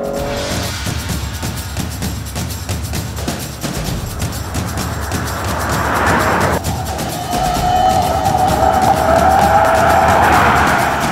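A Lexus 3.5-litre all-wheel-drive car is driven hard around a track with traction control off, its engine roaring steadily while tires squeal and skid, growing louder and closer with a sustained screech in the latter half.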